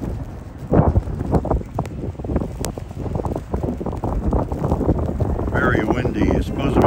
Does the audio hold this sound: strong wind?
yes